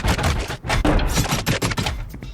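A minigun firing in Team Fortress 2, a dense, continuous roaring rattle of rapid shots that stays loud and unbroken for the whole stretch, with brief dips in the barrage.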